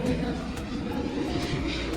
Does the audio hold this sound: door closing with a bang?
no